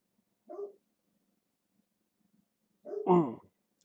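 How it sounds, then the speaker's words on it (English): A big hound barks twice from a distance indoors, a short yip followed by a longer, deeper bark, with quiet in between. "So that's my big hound up there you're hearing barking"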